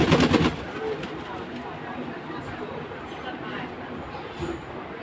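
Sirazi fancy pigeons resting after a bath give low, soft coos under a person's steady talk, with a louder burst of noise right at the start.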